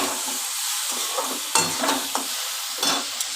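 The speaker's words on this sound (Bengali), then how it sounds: "আলুগুলো দিয়ে ভালো করে কষিয়ে নিচ্ছি" Potatoes and rohu fish curry base frying in a pan while being stirred, with a steady close sizzle and several distinct scraping strokes of the spoon against the pan, and no voices.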